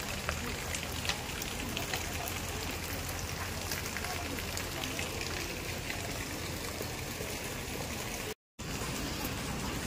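Heavy rain pours steadily onto surfaces outside a home, a dense, continuous hiss that stays constant throughout, with faint voices underneath.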